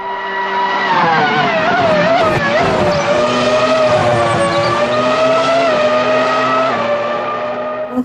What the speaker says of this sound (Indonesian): yang ini mobil balap Formula One.